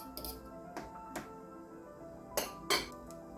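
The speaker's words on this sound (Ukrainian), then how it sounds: "Також трішки утрамбовуємо виделкою." A fork pressing down a layer of grated hard cheese on a layered Prince salad in a dish, giving a few sharp clinks and taps against the plate, scattered and close.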